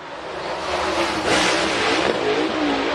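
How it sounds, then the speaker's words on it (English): A race car, the number 06 J.B. Sewell Logging Company machine, runs down the straightaway at Cherokee Speedway during the Blue Gray 100. Its engine roars loud and steady, swelling as it passes close by. "Down the straight straightaway goes Christian Thomas."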